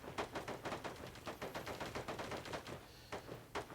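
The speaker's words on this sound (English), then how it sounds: "Now we hear some more gunfire" Rapid, evenly spaced gunshots rattle in a steady automatic burst, then a few scattered shots, moderately distant in the soundscape of the mobile game Cyber Hunter.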